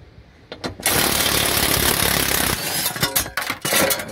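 Two bolts being removed from a car's metal plate while an alarm and remote starter are installed; a dense, buzzing power-tool rattle runs for about two seconds, followed by shorter choppy bursts.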